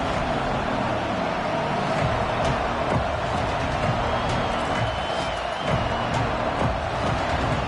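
A college football stadium crowd roars and cheers early in the game, a loud, steady wall of massed voices that continues unbroken throughout.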